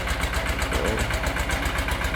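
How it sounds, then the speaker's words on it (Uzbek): A new AGRI GLOBE 180 1105 mini tractor engine idles steadily up close, with a loud, even, low-pitched diesel throb and mechanical rattle running without a break. "Traktorlar ovozini eshitayotgan bo'lsanglar, dahshat."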